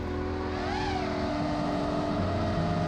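An FPV drone's motors spin up under throttle, a steady close-up whine that rises and bends in pitch before settling into a sustained, fairly loud hum.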